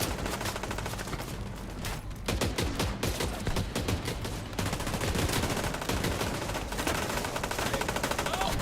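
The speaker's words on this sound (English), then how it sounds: "Shoot the communists." Sustained machine-gun fire in a video game, a dense, loud, nearly continuous rattle of rapid shots lasting throughout with little pause.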